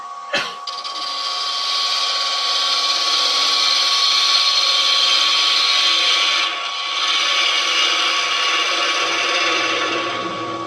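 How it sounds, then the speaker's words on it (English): A gouge cutting a turned box on a wood lathe, with the tool rest set at 45 degrees below center. A sharp initial contact gives way to a loud, sustained scraping hiss over the steady motor hum, easing briefly partway through. "Now I can come in here with this gouge."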